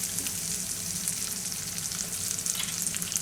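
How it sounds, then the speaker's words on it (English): Oil sizzles steadily in a frying pan with cooked pasta, close and continuous, with a dense crackle and small pops throughout. "So now we add some more oil."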